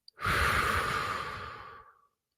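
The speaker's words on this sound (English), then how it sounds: "Actually take 3 deep breaths." A single deep breath fills the moment, a long rushing exhale that swells quickly and then fades out over about two seconds, close and fairly loud, with no talking.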